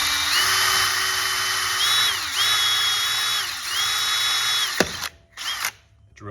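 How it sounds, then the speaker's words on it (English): A power drill whines loudly and steadily, dipping in pitch as it bites into a metal wheel center cap, then stops with a clunk and a few rattling handling noises. "So you're gonna drill into the wheel cap."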